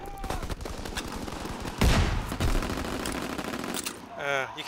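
Gunfire in the World War II shooter Call of Duty WWII during a team deathmatch on the Aachen map: loud, dense bursts of rapid shots through most of the stretch, with one heavy blast near the middle, under a player's voice.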